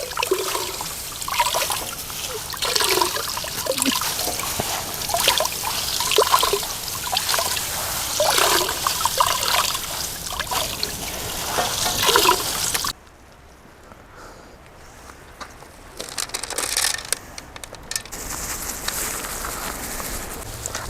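Watermelon juice being squeezed and poured in a large batch, a continuous splashing trickle of liquid that cuts off abruptly midway, followed by quieter dribbling.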